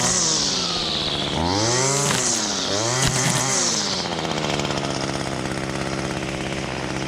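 An ECHO power cutter cutting through brush runs loud and close, its small two-stroke engine revving up and down in sweeping surges before settling into a steady high whine.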